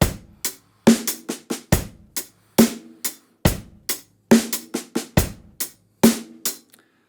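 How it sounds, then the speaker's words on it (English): Drum kit groove built on a paradiddle, with loud snare backbeat strokes and softer ghosted snare notes between them, crisp and close in a steady repeating pattern with no talking. "ghosted notes, played softer on the snare drum, really makes this groove come to life."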